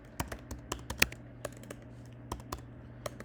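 Keystrokes on a computer keyboard while writing code, sounding as a quick irregular run of close, crisp clicks with short pauses between bursts, no voice present.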